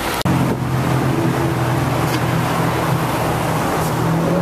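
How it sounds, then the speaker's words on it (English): BMW 7 Series car pulling up outdoors, a loud steady engine hum and road rumble with wind noise that continues throughout. "Fancy 7 Series has now pulled up."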